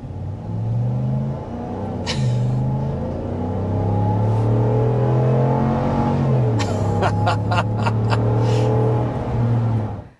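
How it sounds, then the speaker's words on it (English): A 2024 RAM 1500 Hemi V8 pickup truck accelerating uphill, its engine rising loud and close through smooth gear changes with a deep, steady roar and a few brief ticks on top. "as we climb up the hill here and stop at this red light. Obviously, plenty of power, as you'd expect. This is the Hemi V8."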